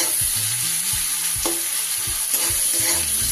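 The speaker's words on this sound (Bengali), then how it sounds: "পেঁয়াজের মধ্যে দিয়ে দিচ্ছি একটু নুন। পেঁয়াজটা তাড়াতাড়ি ভাজা হয়ে যাবে।" Chopped onions with a pinch of salt frying in a pan for a fish curry, a steady close sizzle with a few stirring knocks and scrapes, no voices.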